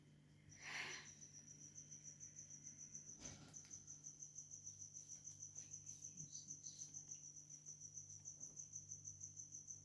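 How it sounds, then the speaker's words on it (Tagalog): Crickets trill at night in a steady, rapid, high chirping that runs the whole time at moderate distance, with a low hum underneath and a brief thump early on. No one speaks. "Gabi na, may kuliglig na."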